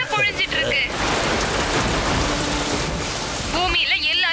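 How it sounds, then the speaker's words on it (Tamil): Steady cartoon rain pours down from clouds, a dense, even hiss of falling water that fills the scene from start to finish, with brief tonal effects at the beginning and end. "அந்த இடத்துக்கெல்லாம் மேகங்கள் வந்து மழை பொழிஞ்சிட்டு இருக்கு"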